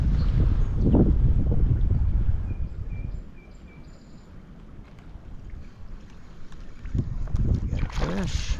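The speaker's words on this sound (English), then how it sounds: "Wind's kicking up a little bit" Gusty wind buffets the microphone outdoors during trout fishing in Wisconsin, loud rushing blasts at the start and end with a calmer stretch between, while a voice talks briefly.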